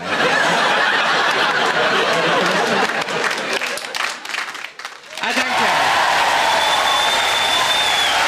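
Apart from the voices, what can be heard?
audience applause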